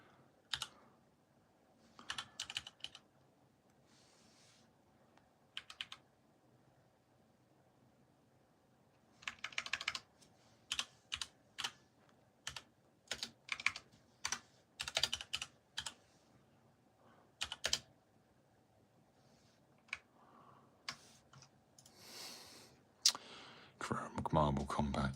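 Computer keyboard typing in bursts of quick clicks, moderately close and fairly quiet, with pauses between runs of keystrokes and occasional soft talk nearby.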